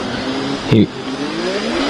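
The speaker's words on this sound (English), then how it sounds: "Magnaship floors the throttle" Formula 1 car in a racing video game accelerating at full throttle around Monaco on wet tyres, a steady engine drone under a commentator's voice with a brief louder low burst midway.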